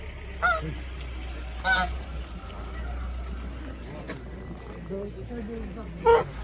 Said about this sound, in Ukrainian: хочу подивитися на гусей, які гарні